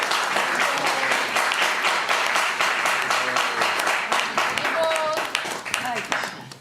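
Applause fills a hall as a spiritual centre's audience welcomes Mataji Urmila, a dense, steady wash of clapping that carries on evenly to the end, with a voice briefly audible over it.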